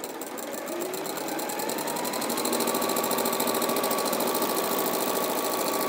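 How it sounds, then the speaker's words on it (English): An Elna sewing machine fitted with a walking foot stitches through thick layers of fabric, running as a fast, even mechanical whir that builds up and then holds steady and close. "I've got the walking foot on the sewing machine because it's thick layers of fabric."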